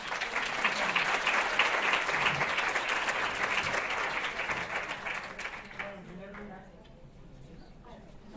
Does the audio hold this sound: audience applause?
yes